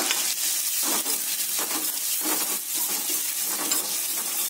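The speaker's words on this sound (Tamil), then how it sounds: "இப்ப முந்திரி நல்லா ரெட்டா பொரிஞ்சு வர ஆரம்பிச்சிருச்சு." Cashews fry in hot oil in a pan for millet pongal, giving a continuous close sizzle and crackle with faint stirring scrapes throughout.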